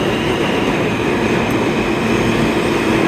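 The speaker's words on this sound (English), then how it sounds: "There's a downtown E train." A downtown New York subway E train of R160 cars runs through Penn Station on the 8th Avenue line, a loud steady rumble of wheels and motors filling the platform with a faint high whine, no voices.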